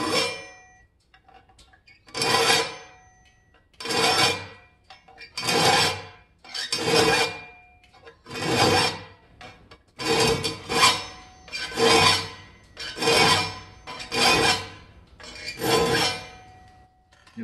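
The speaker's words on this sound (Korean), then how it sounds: "이렇게 중목으로 하고 중목으로 쫙 톱날을 만들고 마지막에 날 세울 때는 이제 세목줄로 해서 날을 세우면은" Saw teeth being cut with a medium file for a traditional Korean frame saw, about ten regular rasping strokes, each a close, loud scrape separated by brief pauses, with no talking.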